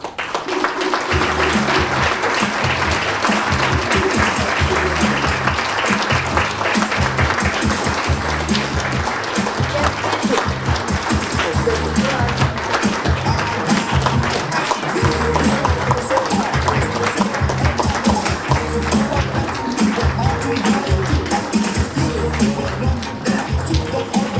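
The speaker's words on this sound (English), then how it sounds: "Ladies and gentlemen, please join me in applauding Spence Carpenter" Sustained audience applause fills a banquet hall at a USA Boxing awards banquet, a thick, even roar of many clapping hands that carries on for over twenty seconds, with scattered voices underneath.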